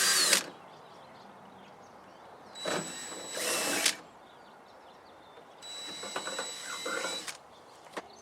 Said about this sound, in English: Now start drilling.